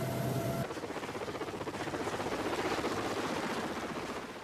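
A helicopter's rotor beats in a steady rhythmic thudding throughout, fairly faint and distant, after a brief tonal whine at the very start.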